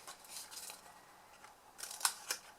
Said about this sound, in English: So we're just going to pop these, cut these down.